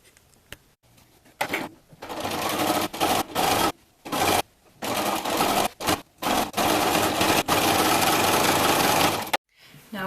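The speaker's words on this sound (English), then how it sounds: "Now I'm going to sew this bias binding closed and enclose the hood right" A sewing machine stitches bias binding closed along the hood of a pink flamingo Halloween costume, running in loud sustained bursts with short pauses between passes.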